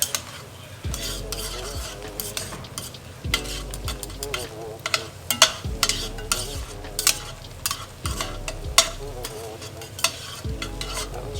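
Garlic is stirred into a sizzling birria mixture in a pan, with a spoon scraping in regular strokes over a constant close frying hiss.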